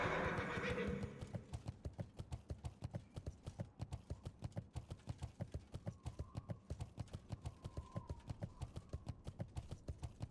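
A horse mount in Classic World of Warcraft whinnies at the start, then its hooves clip-clop in a quick, even rhythm throughout, close and clear with no talking.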